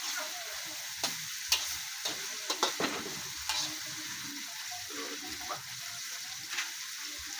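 A vegetable omelette (torta) sizzles steadily in a hot frying pan, a soft constant crackle with small sharp pops and taps scattered through it.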